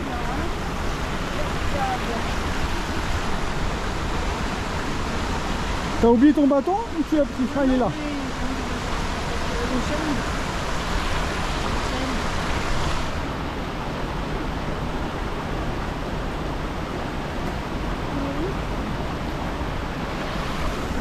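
Heavy rushing water roars steadily and loudly, a powerful waterfall in full flow after a typhoon, with people briefly talking over it.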